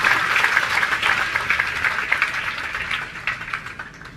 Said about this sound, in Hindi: ताली बजाते जाओ अपने लिए।